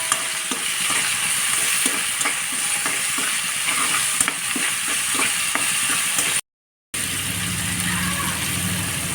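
Small dried shrimp frying in a pan for a Bengali greens-and-fish dish, a steady close sizzle and crackle with faint stirring clicks throughout, briefly cutting out before a lower hum returns.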